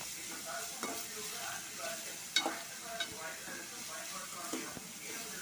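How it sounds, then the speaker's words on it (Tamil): Tomatoes and onions sautéing in a pan over medium flame for upma, a steady close sizzle with a few sharp spoon scrapes and clinks as they are stirred. "தக்காளி சேர்த்து நல்லா வதக்கிக்கோங்க."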